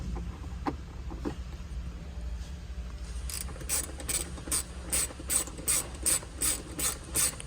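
A ratchet backs out a 7mm bolt from a GMC Sierra or Chevy Silverado pillar: a quiet interior hum, then a close, regular run of clicking ratchet strokes.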